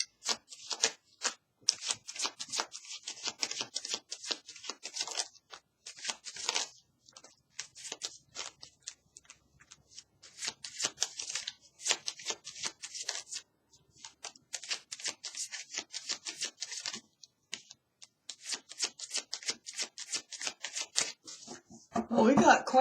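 Tarot cards shuffled by hand for a reading, rapid papery riffles and flutters in repeated bursts with short pauses between, close and fairly quiet.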